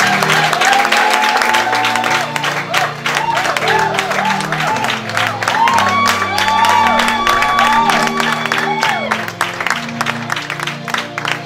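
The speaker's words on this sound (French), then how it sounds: "Recevons-le avec des acclamations de la part du Seigneur." An audience at an official installation ceremony for a church national president breaks into sustained applause with cheers and whoops, loud and dense throughout, as a voice speaks over the crowd.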